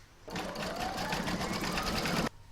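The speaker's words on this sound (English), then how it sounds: "I'm now going to pop that into my machine and stitch round number 2 to secure it." Embroidery machine stitching the securing round on a felt owl hair barrette, a fast steady mechanical whir with rapid needle rhythm, loud and close for about two seconds before stopping abruptly.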